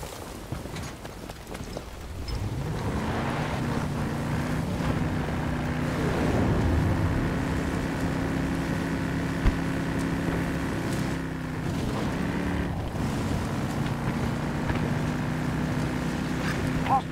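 An armored vehicle rolling in during a Battlefield 2042 match, a rising engine rumble that settles into a steady droning tone with clanks and battlefield noise around it.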